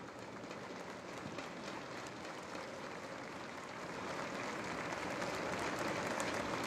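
Crowd at a professional soccer match applauding an injured player as he is taken off, a broad distant wash of clapping that swells toward the end, no talk.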